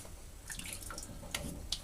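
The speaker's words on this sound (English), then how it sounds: "Let's put a little bit of water" Water from a tap runs and splashes briefly into a sink during a straight razor shave on a cold snowy day, with a few light drips and splashes, close and fairly quiet, no talking.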